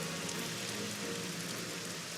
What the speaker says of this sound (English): a light sprinkle of rain begins to fall onto the sands of the Grand Colosseum of Port Hope